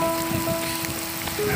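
Heavy rain in Pokhara pours down in a dense, steady patter, loud and close, with a faint tonal hum underneath.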